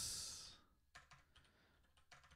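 Someone types on a computer keyboard during a live coding stream, a few short clusters of key clicks following a fading burst of noise at the start.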